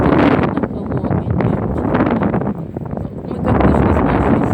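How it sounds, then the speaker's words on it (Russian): Strong, cold wind buffets an outdoor microphone near a church, roaring in gusts that rise and fall, dip briefly in the middle, then surge again. "сегодня такой ветер, холодный"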